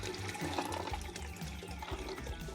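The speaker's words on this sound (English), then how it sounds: "I'm just going to pour this into my bucket" Dirty water from a Fluval 07 canister aquarium filter is poured into a bucket, a close, continuous gurgling splash lasting a few seconds.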